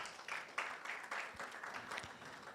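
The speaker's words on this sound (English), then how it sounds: "Another round of applause, please." Audience at a national science quiz championship launch giving a round of applause, a steady patter of clapping heard fairly faint and distant for a couple of seconds.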